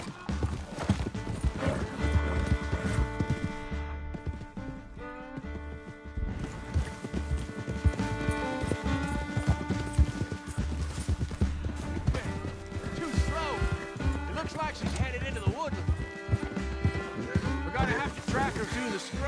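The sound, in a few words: horse galloping and neighing in a video game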